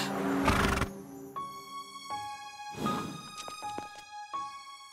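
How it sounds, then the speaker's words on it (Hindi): A cartoon horse whinnies sharply twice in an animated Hindi kids' movie, the neighs ringing out over bright sustained musical tones and a swishing effect. "वीर, देखो, बंटी ने घोड़े को टक्कर मारी।"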